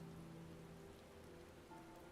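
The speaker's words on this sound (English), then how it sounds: "It'd be a better view if it wasn't raining and dark." Steady rain falls across an outdoor area in Final Fantasy XIV, a soft even patter with no talking, quiet and continuous throughout.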